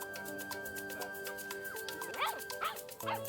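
English Cocker Spaniel puppies yip and whimper in high-pitched bursts, faint and somewhat distant, over a steady mechanical hum.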